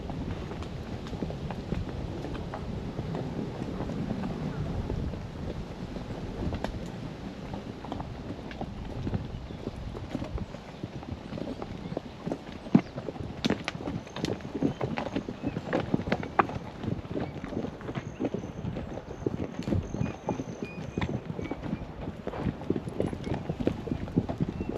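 Horses walk along a trail near the Grand Tetons and Jackson Hole, hooves clip-clopping in a steady, close rhythm over a low wind rumble, growing livelier midway.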